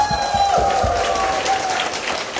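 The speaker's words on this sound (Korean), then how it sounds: "박수 한번 드세요." An audience at a singing class claps together, a burst of hand-clapping with a sustained tone ringing beneath and some crowd noise around it.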